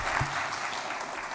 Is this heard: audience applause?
yes